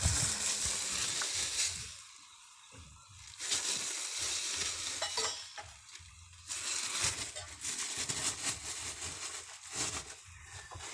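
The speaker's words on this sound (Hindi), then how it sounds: "दोस्तों इसमें अब चीनी डालते हैं।" Sugar goes into sizzling semolina halwa in a pan, giving a close frying hiss broken by stirring and scraping bursts with short quieter pauses.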